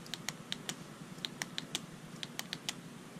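Soft clicks from the top of a Sheaffer Sentinel ballpoint pen being pressed, a dozen or so light taps at an uneven rhythm, close and quiet over faint background hiss.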